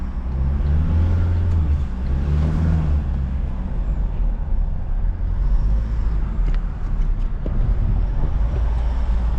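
A 2023 Toyota Land Cruiser VDJ79 with the 1GD 2.8-litre four-cylinder diesel and automatic gearbox is driven, its steady low engine drone and road noise continuous and fairly loud from inside the cab.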